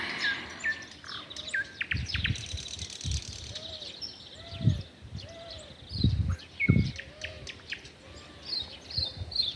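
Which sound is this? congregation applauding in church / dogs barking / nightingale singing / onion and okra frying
nightingale singing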